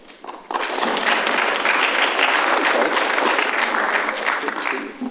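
Applause from the audience at a city council meeting rises after a brief quiet start, then holds as a dense, even wash of clapping from many hands, fairly close and loud, until it begins to thin at the end.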